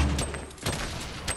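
Bursts of Fortnite gunfire rattle through a squad match, a dense volley of rapid shots with sharp peaks near the start, middle and end, fairly loud with no voices over it.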